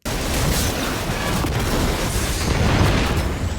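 A dense, roaring blast of noise bursts in suddenly and rumbles on without letup, a sustained explosion in Destiny 2.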